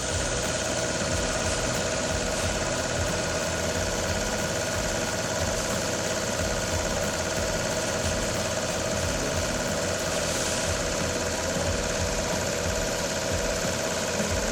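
Heavy haul tractor truck engines idle steadily, a loud continuous rumble with a faint knocking vibration throughout and no talking.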